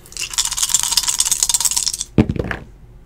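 Two six-sided dice and a ten-sided die rattle for about two seconds as they are shaken, then clatter in a short burst of sharp clicks as they land and settle.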